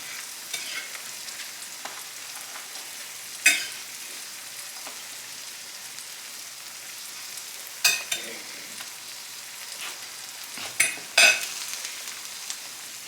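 Eggs frying in a pan for breakfast: a steady broadband sizzle with faint crackle throughout, broken by a few sharper spits and pops, no voices.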